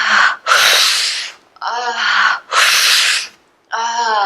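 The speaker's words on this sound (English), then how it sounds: "Make your inhales a little deeper." Deep, loud breaths in a tantric breathwork exercise, four forceful rushing inhales and exhales in quick succession, close to the listener, with brief pauses between them and a faint tonal, voiced edge on some breaths.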